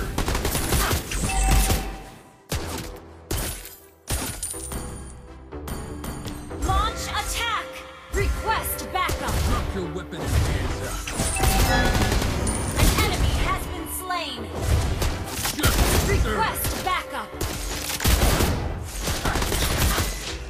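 Heavy video-game gunfire, with dense bursts of automatic fire, explosive booms and tinkling casings, rattling on almost continuously with brief breaks, loud and close, alongside game sound effects and music.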